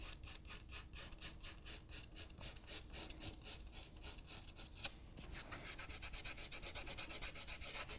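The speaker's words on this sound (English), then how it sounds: "once the masking dries, you can rub it off with your fingers" Fingers rub dried masking fluid off watercolor paper in quick rhythmic strokes, close and faint, the scratchy rubbing becoming denser and more continuous toward the end.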